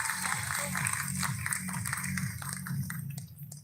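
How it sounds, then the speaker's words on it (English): Audience applause at a closing ceremony for a delegate debate event, a steady broad wash of clapping throughout, moderately loud with some low murmuring voices underneath. "Please give them a round of applause."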